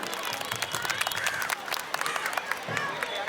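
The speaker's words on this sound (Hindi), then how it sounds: "हम एक बार जोरदार तालियों से उनका भी स्वागत" A school sports day audience applauds for the principal and staff, a steady wash of many hands clapping at moderate distance, with crowd noise and voices mixed in.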